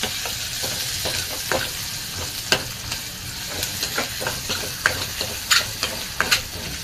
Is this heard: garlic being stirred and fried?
yes